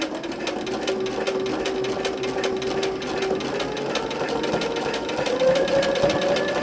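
Sewing machine doing free machine stitching around a shape, a fast even needle chatter running steadily and close with a slight shift in pitch as the speed changes.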